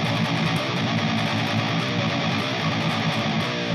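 Metal guitar run through a distortion pedal with the tone knob at 100%, a dense, bright, saturated wall of sound sustained steadily throughout at moderate level, with no talking.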